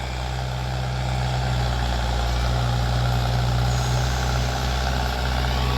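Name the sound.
4x4 tractor engine running with tiller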